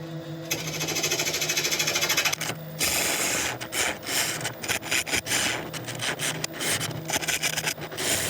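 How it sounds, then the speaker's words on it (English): A wood lathe turns down the centre of a very heavy hardwood workpiece, with a tool scraping and chattering against the spinning wood in rapid rough bursts, a steady motor hum underneath and a brief pause partway through. "I'm just going to very, very quickly turn this centre down"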